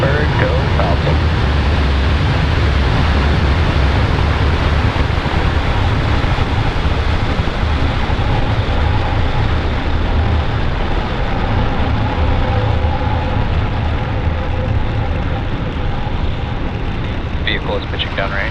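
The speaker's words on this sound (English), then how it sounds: "Engines full power and ignition. Lift off of Falcon 9." A SpaceX Falcon 9 rocket's engines roar at liftoff as a steady, dense, loud rumble that stays constant throughout, heard from a distance with no talking.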